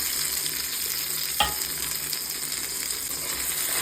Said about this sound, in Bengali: তেল গরম হয়ে গেছে, এবার আমি কড়াইশুঁটির পেস্ট করাটাকে দিয়ে দিলাম আর তার সাথে আমি মশলাগুলোকেও দিয়ে দিলাম।